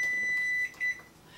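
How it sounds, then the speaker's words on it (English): A kitchen timer beeps with a clear, sharp tone: one long beep followed by a shorter one, close by in a quiet kitchen, with no talking. "Oh, the timer's going off."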